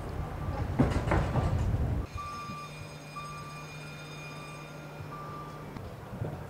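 A heritage GWR railway train pulling into a station platform, heard behind steady tonal beeping and a low running hum after a louder rumbling, clattering opening.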